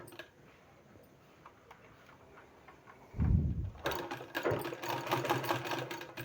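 Sewing machine running a line of stitching along both sides of a two-colour, one-inch fabric strip for narrow pants, starting after a quiet tick-laden stretch and then whirring steadily up close.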